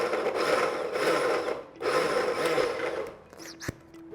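Dry corn kernels being ground coarsely without water in a kitchen grinder, a steady gritty whirring in several bursts with short pauses between them, close and fairly loud, with no talking.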